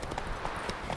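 Galloping hooves of Roach, the horse in the video game Witcher 3, a brief rhythmic clip-clop over thick game background noise, steady and fairly close.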